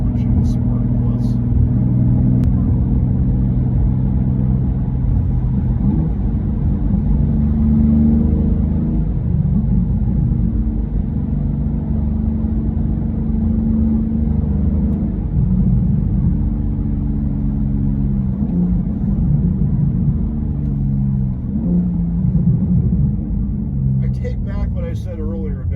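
A 2024 BMW M2 with a manual gearbox, driven in Sport Plus mode, gives a steady low engine rumble that rises and falls as the revs shift, with someone talking over it throughout.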